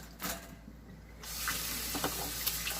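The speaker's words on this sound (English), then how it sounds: "Wash your hands." Tap water runs steadily as hands are washed in a sink, a close hissing splash that starts after a brief quieter moment and continues with small splashy fluctuations.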